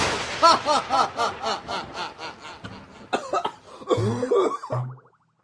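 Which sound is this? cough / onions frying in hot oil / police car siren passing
cough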